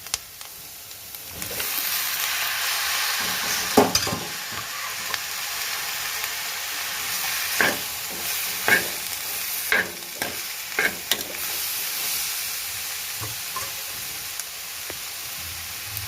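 Native tomatoes frying and sizzling in a pan for Bangada fish curry, a steady close hiss broken by repeated scraping stirs of a spoon throughout.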